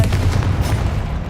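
In the video game Hogwarts Legacy, a Confringo blasting spell explodes with a loud, heavy boom that rumbles deep and close, running as a dense burst of blast noise across the whole short moment.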